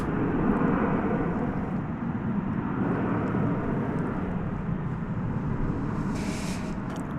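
An airliner, flight 732 bound for Doha, takes off at night from the east side of DFW airport. Its broad, steady jet roar fills the whole stretch without a pause.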